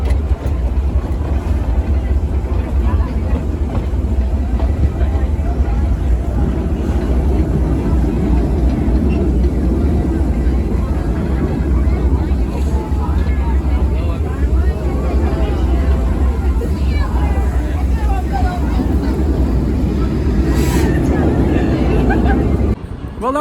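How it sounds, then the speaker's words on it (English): An amusement park train ride at Six Flags Over Texas produces a loud, continuous, close rumble of the moving vehicle. The roar stays steady for the whole ride, with indistinct voices faintly underneath. "You can't ever go wrong with a good train ride."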